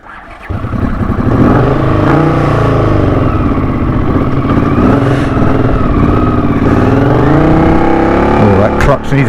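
A 1981 Honda CX500 motorcycle engine with air pod filters runs steadily close by, a continuous low throbbing drone with slight pitch wavering, loud from start to finish after a brief quiet opening.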